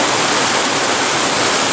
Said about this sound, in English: I know the water is coming off that plateau right now